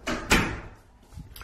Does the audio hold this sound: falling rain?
no